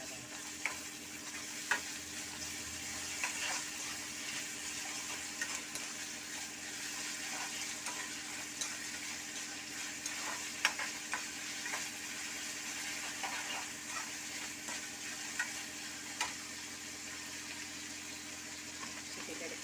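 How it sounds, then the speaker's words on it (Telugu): Chicken frying with ginger garlic paste in a pan, a continuous loud sizzle with periodic scraping clicks of stirring throughout, no talk. "కొంచెం అల్లం వెల్లుల్లి పేస్ట్, దాన్ని కూడా బాగా ఫ్రై చేయాలి."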